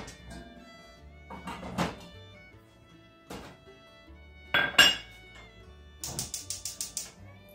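Pots and a pan clatter and thunk on a home stovetop while chili is started with red kidney beans: scattered knocks and metallic clinks, then a rapid run of six or seven light taps, close and moderately loud with no talk.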